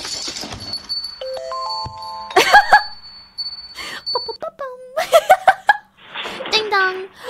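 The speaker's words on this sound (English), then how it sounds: "Ding dong." A meme clip carries chiming doorbell-like tones that ring out twice amid a child's chatter and giggling, the bright dings cutting through short bursts of voices and laughter.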